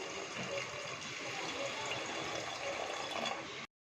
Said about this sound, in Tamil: அடுத்தது நம்ம புளி தண்ணி ஊற்றிப்போம்.